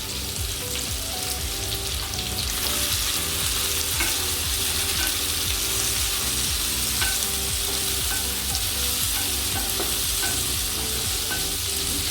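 Bitter gourd frying in a pan with mustard seeds and curry leaves in a home kitchen, a loud, steady close sizzle with crackling pops and occasional stirring scrapes throughout.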